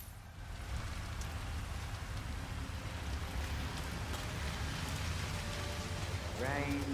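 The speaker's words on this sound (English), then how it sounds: "Rain, rain, nothing but rain." Steady rainfall in the video game Hitman 3, a constant hiss of drops on surfaces, fairly quiet, with a faint voice near the end.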